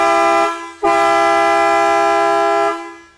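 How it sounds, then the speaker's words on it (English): A very loud, sustained multi-tone blast from Kleinn train air horns on a pickup truck, briefly cut and then resumed, holding for a couple of seconds before stopping. "So, Lurch, why don't you hit the horns there one time?"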